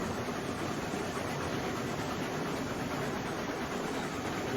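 Train running in the video game Railroads Online, a steady loud rumbling roar of the moving locomotive and cars with no breaks and no talking.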